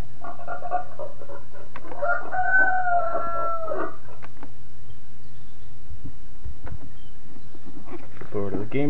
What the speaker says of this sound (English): next page is our animal sounds.